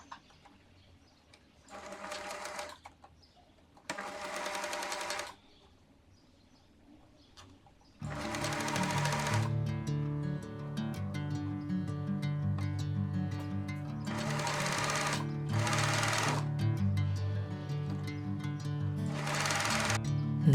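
Sewing machine stitching the hem of a cotton blouse, with short whirring bursts at first and then longer steady mechanical runs separated by brief pauses, close and fairly loud, with no talking.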